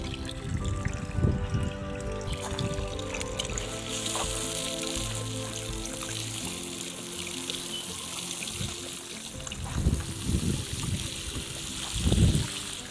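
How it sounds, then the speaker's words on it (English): Water poured over freshly planted broad beans in a vegetable plot, a steady splashing trickle close by that swells into heavier bursts near the end. "I'm just going to give them a good watering to settle the roots."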